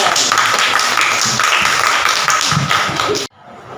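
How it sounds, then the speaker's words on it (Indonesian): Students in a classroom clap together during an Islamic religious education lesson, a dense steady burst of many hands that runs for about three seconds and then stops abruptly. "Masya Allah, tepuk tangan"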